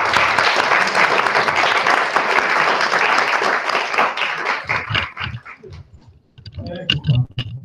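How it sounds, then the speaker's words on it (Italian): Applause from a round-table audience in Venice for a city councillor, dense and steady at first, then breaking into scattered individual claps and fading as voices and movement take over. "Assessore, un applauso."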